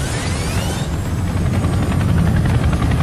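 British Air Force Chinook helicopter flying, a loud continuous rotor thrum and engine whine close by, with a falling pitch sweep at the start and no voices.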